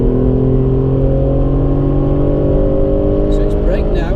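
An Alfa Romeo Brera accelerating on a race track, its engine droning loud and steady with a slowly rising pitch as power builds, heard close from inside the car.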